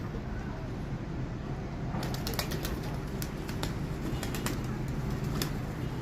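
Pigeons in a pigeon loft coo softly under a steady background hum, joined partway through by sharp clicks and brief flutters of flapping wings.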